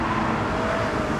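Aston Martin V12 Vantage S convertible engine revving, a loud continuous steady roar filling the whole short stretch with no voices.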